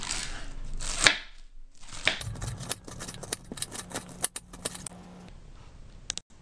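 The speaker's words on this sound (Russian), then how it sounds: "Вначале шинкуем капусту." A knife shreds cabbage on a cutting board in rapid, crisp chops, a few separate cuts first, then a quick run of close, sharp strokes before it stops.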